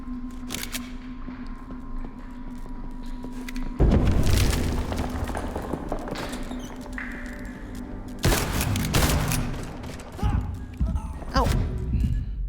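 Shotgun blasts in the video game Liberated: a few heavy booming shots with thudding impacts over constant game ambience, loud and close, with a short burst of rapid firing near the end.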